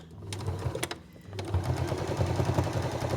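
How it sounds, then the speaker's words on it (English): A sewing machine stitches along the quilting lines of an oven glove at a long stitch length, a steady close mechanical whir with a brief pause before it resumes and runs on. "I'm going to retrace the quilting lines on this oven glove on my machine"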